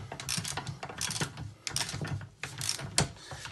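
A ratchet tightens bolts while Brembo brakes are fitted to an Evo, giving quick bursts of close, crisp mechanical clicking with short pauses between strokes.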